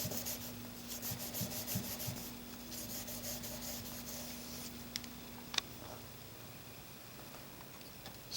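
The back of a Blum plane blade is rubbed on a sharpening stone to remove the burr, giving steady back-and-forth gritty scraping strokes, close up, then a few light clicks and a quieter stretch.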